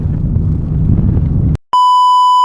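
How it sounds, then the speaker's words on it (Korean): On an octopus fishing boat, wind and engine noise give way to a single loud, sustained electronic beep signalling the anglers to drop their lines. "배에서 삐 하면은 내리면 됩니다"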